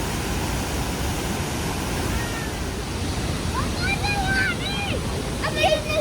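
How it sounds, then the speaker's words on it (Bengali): The Rhine Falls in Switzerland send water crashing down in a dense, steady roar of broad rushing noise, close and continuous, with faint birdlike chirps above it. "এখানে দেখেছেন জলের স্রোত কীরকম কত জোরে জোরে জলটা ওপর থেকে পড়ছে"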